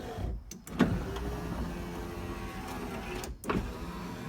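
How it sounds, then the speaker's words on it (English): A worn power window motor in a 1994–2004 Ford Mustang runs steadily, driving the old glass up and down with a continuous whirring drone, broken by brief clunks where it stops and reverses; close and moderately loud, no talk. "keep on hitting locks, window goes up and down"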